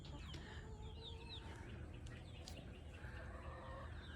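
Chickens cluck softly in an enclosure, with occasional higher chirps over a steady low background hum.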